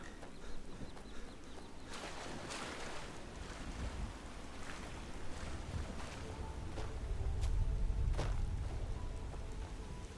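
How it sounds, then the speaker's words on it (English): A waterfall in the video game Skyrim, heard as a steady broad rushing roar with wind-like noise. It swells somewhat louder toward the end, with no talk over it. "Waterfall."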